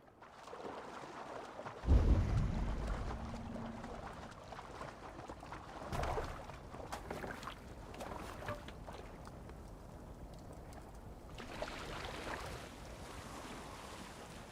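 A boat sailing through open water in Assassin's Creed Valhalla, with a steady wash of waves and wind, a louder splash early on, and no talking.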